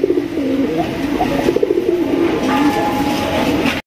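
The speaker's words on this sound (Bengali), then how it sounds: "এখানে হচ্ছে চমৎকার একটা ঝর্ণা শাড়ির কবুতর দেখতেই পাচ্ছেন" Pigeons at a pigeon sale coo in repeated throaty bursts close by, layered over one another and loud until the sound cuts off abruptly at the end.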